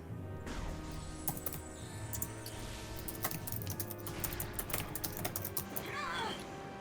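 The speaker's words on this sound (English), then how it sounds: "I hear aggressive typing from Midnight." Fast, hard typing on a computer keyboard during a Metroid Prime 3: Corruption game session, dense clusters of sharp clacks and key thumps that grow busier toward the end, with a brief squeaky sound near the close.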